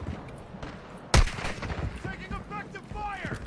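A single loud shot from Call of Duty Warzone 2 cracks out near the start of the clip, followed by scattered quieter gunfire while players talk over it.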